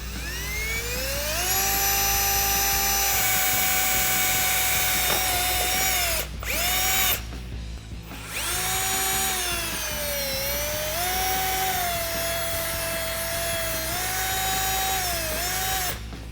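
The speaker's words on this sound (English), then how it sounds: "we're going to drill a pilot hole first, which is a smaller gauge hole." A power drill bores a pilot hole while a Teraflex 2.5-inch lift kit is installed on a Jeep Wrangler JL, its loud whine rising and dipping under load with a brief pause, close and steady.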